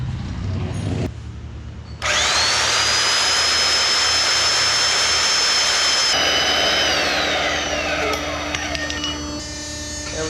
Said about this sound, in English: I'm just gonna put in the vise, and yeah, I'm gonna cut it.